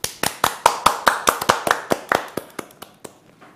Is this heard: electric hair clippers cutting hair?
no